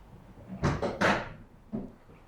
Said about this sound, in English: Right, rear seat removal.